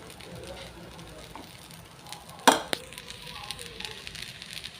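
Idli upma with coriander leaves being stirred in a pan: a soft, continuous low sizzle with a sharp metallic scrape or clink partway through and lighter taps after it.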